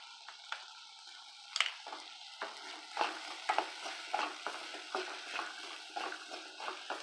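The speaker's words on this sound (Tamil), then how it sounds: "நான் இப்படியே வதக்கி விட்றேன்." Agathi kai (sesbania pods) sauté in a pan, with a spoon stirring through the vegetables in soft scraping, squishing strokes over a gentle sizzle, faint and irregular, and no voices.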